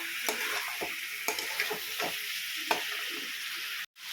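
Ginger, garlic, salt, turmeric and chili powder fry in a pan for chicken, a continuous sizzle broken by several scraping stirs of the spoon, close and fairly loud, ending with a sudden cutoff.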